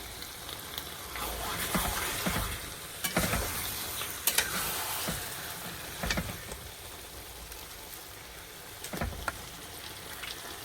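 Chicken pieces, legs and giblets stirred in a cooking pot as they fry: a low sizzle underneath with irregular scraping and clattering strokes every second or two, close by and with no speech.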